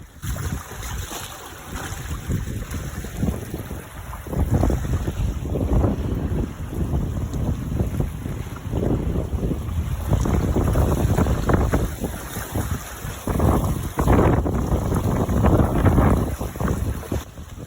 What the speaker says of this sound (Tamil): அந்த அளவுக்கு வந்து காற்று மழை ஜாஸ்தி இருக்குது